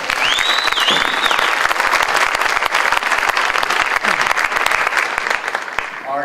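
Sustained, dense applause from a crowd at a school promenade event, loud and steady throughout with a few whoops rising over the clapping.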